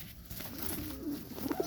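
A young blue Serbian highflyer pigeon coos softly in a loft, low murmuring calls swelling toward the end over a steady background hum.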